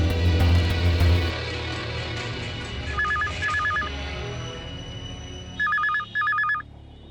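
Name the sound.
telephone ringing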